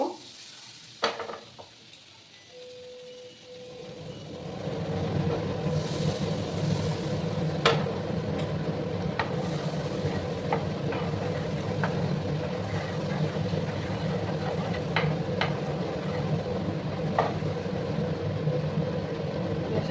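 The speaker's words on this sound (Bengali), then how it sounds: "এবার আমি বাটার দেবো তোমরা চাইলে তেল দিয়েও ভাজতে পারো বাটারটাকে প্রথমে মেল্ট করে নেব" Butter melts in a pan over lowered gas heat and settles into a steady sizzle, with a few light clicks and scrapes on top. It is quiet at first and grows into continuous frying noise.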